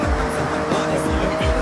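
In the Forza racing game, a car drifts with a loud engine roar and squealing tires, a continuous close, intense sound.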